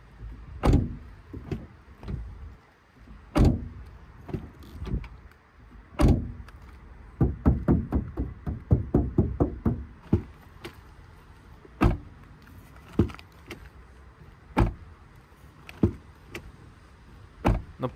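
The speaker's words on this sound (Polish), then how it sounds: "Posłuchajmy teraz, jak zamykają się drzwi." Doors of a 2024 Toyota Prius Prestige being shut, a series of sharp solid thuds spaced across the stretch, including a quick burst of rapid clunks midway, close by with no talking.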